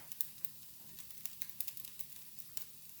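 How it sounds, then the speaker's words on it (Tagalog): Tuna sautéing in plenty of oil in a frying pan, a quiet continuous sizzle dotted with sharp little pops and crackles at close range, no voices. "Magigisa naman ako ng tuna."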